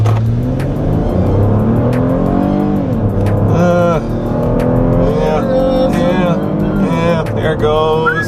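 A Lexus RX 350 F Sport SUV accelerating hard from 0 to 60 mph, its engine note climbing steadily with gear shifts over about eight seconds, loud and continuous, while people talk throughout.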